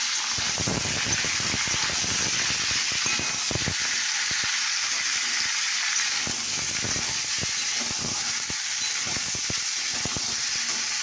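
Boiled potatoes fry in hot oil with panch phoron in a kadai, a loud steady sizzle and hiss with scattered crackles and light stirring scrapes, no talk.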